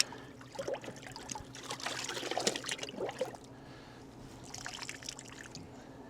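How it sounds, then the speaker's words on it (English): Hand-washed laundry sloshed and rinsed in a tub of rinse water outdoors, giving soft close trickling and splashing bursts that rise and fall over several seconds, with no talking. "Then run it in the rinse water."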